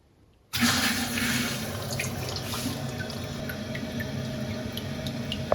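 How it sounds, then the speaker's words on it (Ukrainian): Water from the central supply gushes suddenly into a barrel in an apartment, starting abruptly after a short silence. It then runs as a steady, close splashing flow with occasional drips and gurgles. "давайте я покажу, як наповнюється ця бочка"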